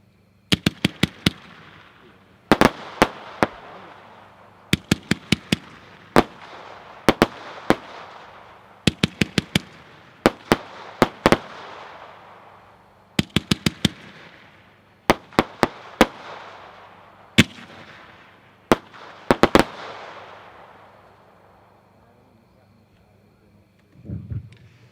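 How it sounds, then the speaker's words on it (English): A Dominator Pro 25-shot red crown cross cake fires in rapid bursts of sharp cracking reports, each volley followed by a crackling decay, repeating steadily for about twenty seconds at moderate distance before falling quiet. "Number 10 is 25 shot red crown cross set by Dominator Pro."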